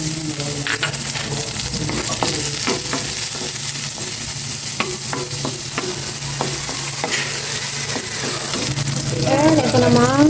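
Sliced onions sizzle loudly in a hot pan while a utensil stirs and scrapes, clinking against the metal now and then, a continuous close frying hiss with a brief voice near the end.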